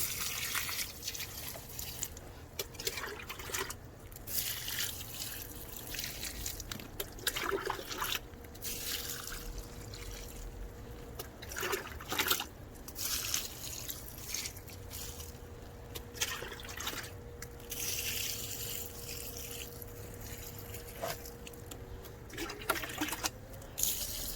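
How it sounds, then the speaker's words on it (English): Water trickles and drips steadily close by through an outdoor worm bin into the section below, with soft irregular splashes and a faint running stream underneath. "I just keep on watering until I can hear the water dripping down in the section below."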